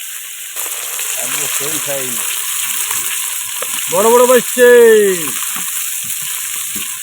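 Steady sizzle of crab frying in a wok, with voices talking over it, one burst of speech growing louder near the middle.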